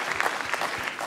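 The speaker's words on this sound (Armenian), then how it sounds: "Մեր բոլոր մասնակիցները, հատկապես Վանին ուզում եմ ծափարենք" An audience claps for the participants in a brief, dense burst of applause, moderately loud and close, with no talk over it.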